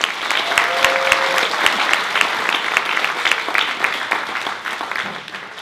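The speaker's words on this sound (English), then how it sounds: "please give one last round of applause to our candidates." An audience applauds student council candidates at a school officer election assembly, with sustained, dense clapping that stays loud and steady throughout before tapering slightly at the end.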